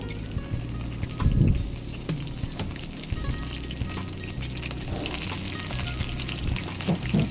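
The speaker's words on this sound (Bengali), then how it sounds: "তারপর আমি ফুলকপিগুলোকে দেব তো দিয়ে দিলাম কেটে রাখা ফুলকপিগুলো" Cut cauliflower pieces dropped into hot oil with potatoes in a pan, a sharp burst of crackling as they land, then steady close sizzling and bubbling with occasional spoon knocks, no talking.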